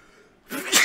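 One sharp human sneeze bursts out after a brief quiet lead-in, close and fairly loud, with a breathy rising burst at the end.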